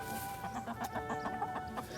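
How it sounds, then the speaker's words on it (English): Chickens scratching in garden beds cluck steadily in short, repeated bursts close by, with several birds overlapping under a faint background hum. "The chickens are doing their work"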